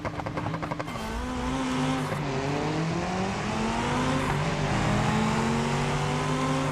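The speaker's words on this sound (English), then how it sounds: "Oh, that's a loud car." A loud racing car engine in the BeamNG racing game drones and revs continuously, rising and falling in pitch through gear changes, close and dominant.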